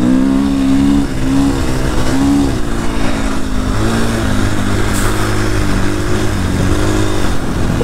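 A 500 cc engine held at full throttle on an ice racing track, a loud, steady, close-up high-revving drone with slight pitch shifts throughout and no voices.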